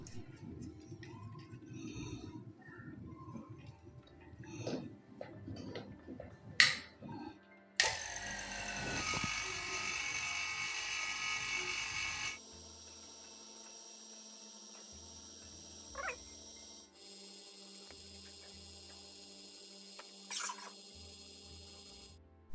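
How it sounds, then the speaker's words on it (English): A vacuum pump evacuates a mini-split air conditioning system. Faint clicks and handling noises come first, then the pump starts with a steady, loud mechanical drone whose tone shifts partway through, and no one speaks. "Now I will vacuum the air out of the system through a vacuum pump."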